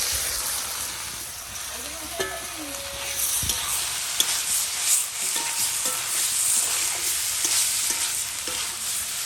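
Fried vegetables go back into a pan of cooked-down spiced masala and are stirred, giving a continuous sizzling hiss. Scattered clinks and scrapes of a spatula sit over it, with faint background voices.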